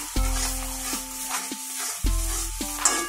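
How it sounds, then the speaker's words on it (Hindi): Spice paste frying in oil for a seer fish fry, a steady sizzle with a spoon scraping and stirring against the pan in uneven strokes; close and fairly loud, no talking. "तो लीजिए ये हमारा पेस्ट भी रेडी हो चुका है फ्राई होके"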